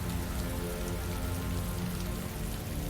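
Steady, dense rain falls as an audiobook sound effect, an even, continuous hiss of drops hitting a surface, with no voices and no pauses.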